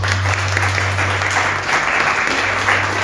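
A church congregation breaks into loud, continuous applause, a close, full-bodied burst of clapping with a low hum beneath it and no speech.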